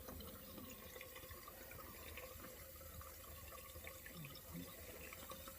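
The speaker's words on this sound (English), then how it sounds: "So we'll wash down the sides of the flask to try and transfer as much as possible." Water is rinsed down the inside walls of a laboratory flask to wash a nickel dimethylglyoxime precipitate along, a faint, continuous trickling wash with no breaks.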